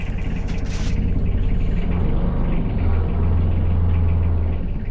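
Boat engine idling steadily just after being started, a low continuous rumble with a brief higher clatter at the start, no talk over it.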